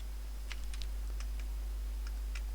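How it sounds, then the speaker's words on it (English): Keys tapped on a computer keyboard in a handful of sparse, light clicks over a steady low hum, close by with no voices. "We're just typing random shit in."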